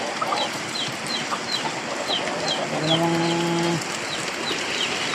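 Chickens cluck and squawk nearby in a busy flock while feeding on poultry feed, with scattered calls throughout and a brief spoken remark.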